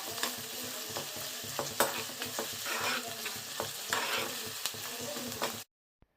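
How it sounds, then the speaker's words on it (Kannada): Onion sizzles in hot oil with ginger and garlic, browning in the pan while a spoon stirs and scrapes, giving a steady close crackle with scattered scraping knocks before it cuts to silence. "ಈರುಳ್ಳಿನ ಕೂಡ ಹಾಕ್ಕೊಂಡು ಚೆನ್ನಾಗಿ ಕೆಂಪಗಾಗೋವರೆಗೂ ಫ್ರೈ ಮಾಡ್ಕೊಳ್ಬೇಕು"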